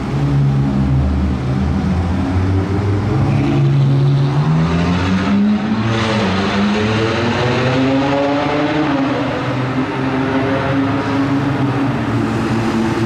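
A modified Ferrari Purosangue accelerates hard, its engine note climbing steadily through rising revs in a loud, continuous roar that sweeps upward over several seconds with no voices.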